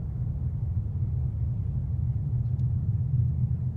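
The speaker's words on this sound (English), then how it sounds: "Very low-pitched rumbling sound." A synthesized aftershock rumble effect: a deep, steady, very low-pitched rumble rolls continuously, heavy like distant thunder or a passing engine, with no other sounds.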